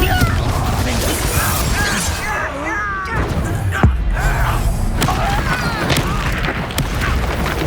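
Hogwarts Legacy combat with the Confringo blast spell: booming crashes and sharp impacts hit repeatedly amid busy battle noise, while voices call out spells throughout.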